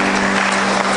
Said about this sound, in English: Everybody clap your hand for the Lord.